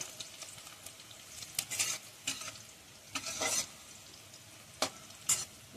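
Onion frying in a pan until browned, with a soft, faint sizzle under intermittent scraping stirs of a spatula, the scrapes arriving in irregular clusters and no one speaking.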